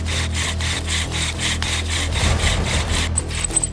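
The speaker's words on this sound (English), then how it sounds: "You will hear the wood squeaking and it will begin to smoke." Rhythmic back-and-forth squeaking and rasping of a bow drill's wooden spindle on a wooden board, steady strokes about twice a second, close and fairly loud.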